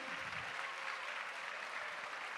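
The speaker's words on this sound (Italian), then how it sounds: "Ma l'applauso va a loro, alle piccole note di Tissi, a Laura Santucciu." Audience applause for the young dancers of a children's dance group at a live event in Ollolai, a steady wash of many hands clapping at a moderate, somewhat distant level.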